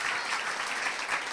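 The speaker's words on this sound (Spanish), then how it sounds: "Mira, un aplauso para José" An audience in a Christmas talk bursts into applause, a dense, steady clatter of many hands clapping, moderately loud and filling the room, with no voices over it.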